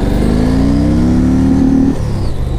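A 2007 Yamaha Road Star 1700cc motorcycle engine revs hard at full throttle, a loud, close rising roar that climbs steadily for nearly two seconds before dropping back to a rumbling idle.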